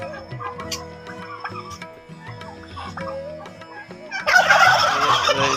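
Turkeys gobble repeatedly in rapid, rattling bursts, with clucking poultry around them and a louder, harsher flurry near the end.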